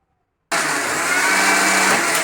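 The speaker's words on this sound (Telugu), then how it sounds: "ఇప్పుడు మిక్సీ పట్టుకుంటున్నాను" A kitchen mixer grinder grinds soaked rice and coconut for coconut dosa batter, starting abruptly and running as a loud, steady, close whir for under two seconds before cutting off.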